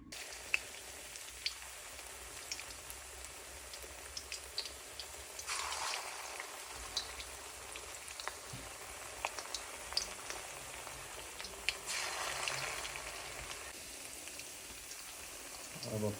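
Chopped onion leaf pakodas frying in hot oil, a soft continuous crackling sizzle with brief louder swells, fairly quiet and steady throughout.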